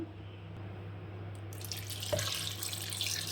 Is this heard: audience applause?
no